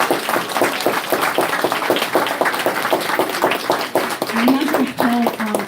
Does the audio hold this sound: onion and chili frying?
no